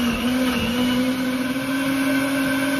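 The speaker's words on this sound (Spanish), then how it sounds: "Y le vamos a poner 2 ajos. Y vamos a moler" A blender grinds cooked tomatoes with garlic, its motor a steady, loud, high-pitched whine that holds constant throughout, close and without speech.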